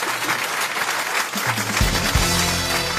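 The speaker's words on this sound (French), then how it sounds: "Sabine, on vous applaudit." Studio audience applause on a French radio comedy show rings out in a brisk burst of close, full clapping, with a low music sting entering partway through.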